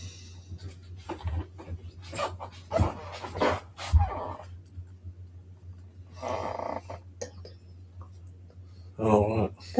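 A dog pants in quick, soft breathy bursts indoors, close by, with a low steady hum underneath and a few scattered bumps and faint voices.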